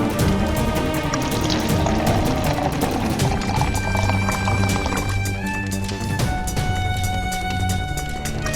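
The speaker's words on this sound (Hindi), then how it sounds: "पतीला रख और चढ़ा चाय का पानी" Water is poured into a pot for making tea, a continuous splashing stream that runs steadily at close range with some clattering kitchen clutter in the background.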